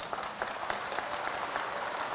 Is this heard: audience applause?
yes